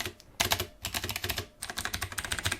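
Rapid typing on a MARVO KG947 mechanical gaming keyboard with clicky blue switches, sharp crisp clicks arriving in quick bursts with a short pause, close and clear with no talk.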